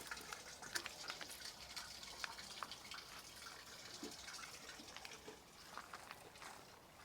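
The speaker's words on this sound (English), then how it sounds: "I still hear some weird noise, like, in here, like water running." Water runs and trickles back down a drain, a faint, continuous wash with scattered soft drips and splashes, close by and with no voices.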